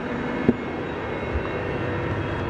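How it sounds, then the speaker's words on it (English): Steady broadband engine roar of a private jet climbing after takeoff, a continuous even drone with a brief thump near the start. "Going up in my plane."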